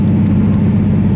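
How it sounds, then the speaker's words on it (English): A car's exhaust fitted with Pypes Bomb mufflers and Magnaflow Magnapacks drones at a steady low rumble from inside the cabin, continuous and fairly loud throughout with no talk over it. "I can still hear the exhaust note"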